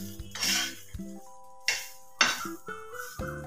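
A spoon clinks and scrapes against a pan while corn is stirred for corn chaat, a series of bright metallic taps and rattles spaced irregularly, close and fairly quiet.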